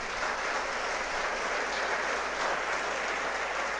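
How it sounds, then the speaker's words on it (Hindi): An audience at a civil services topper event claps steadily and densely, a continuous wash of applause at even loudness from start to end with no voices over it. "एक बार जोरदार तालियां आशीष जी के लिए बजाएं।"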